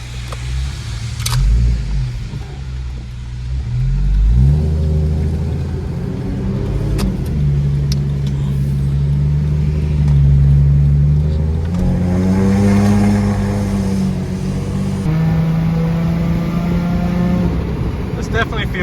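Supercharged Lexus IS 350 engine with its exhaust valve open, revving up and down in several rising and falling sweeps, loud and close, with someone talking in between.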